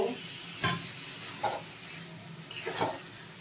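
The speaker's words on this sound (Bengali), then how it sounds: "আবারও অল্প অল্প করে দিয়ে দিয়ে নাড়িয়ে নেব।" Pointed gourd and prawns cooking in a pan, with a soft steady sizzle and a few brief spoon scrapes as they are stirred, fairly quiet and without talk.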